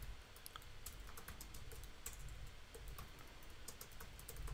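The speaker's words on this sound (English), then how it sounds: "we're going to type in content" Typing on a computer keyboard while setting up a website, a steady run of close, rapid key clicks with no talking.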